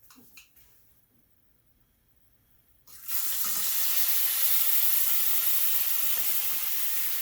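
Six cloves' worth of minced garlic hits a hot pan at about three seconds and sizzles loud and steady to the end, following a few soft clatters and near silence.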